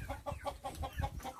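Turkeys inside a turkey house give a quick run of soft, rhythmic clucking and gobbling calls, about seven short pulses, fairly faint and close by, with no talk.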